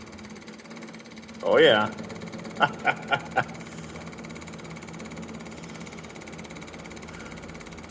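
A clickety-clack hydraulic pump on a plot combine being repaired, running with a quick burst of four sharp, evenly spaced clacks over a steady engine hum, following a brief spoken exclamation.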